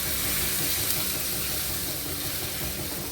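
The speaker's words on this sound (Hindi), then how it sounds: "और हम अपना तड़का इसे डाल देते हैं" Hot tadka tempering hits water chestnut kadhi and sizzles, a steady loud hiss of frying that holds evenly throughout without talk.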